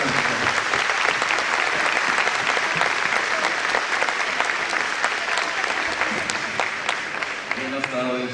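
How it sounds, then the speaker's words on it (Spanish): Steady audience applause at an indoor talk, continuous dense clapping from a crowd that holds at an even level for about eight seconds before a few final claps trail off. "También demos un fuerte aplauso al Padre Carlos Santillán"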